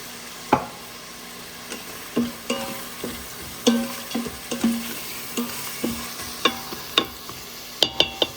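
Mutton biryani masala sizzles in oil inside an Instant Pot while a spoon stirs it, giving a steady low fry under a series of sharp scraping strokes and clinks, close and fairly quiet, with no talking.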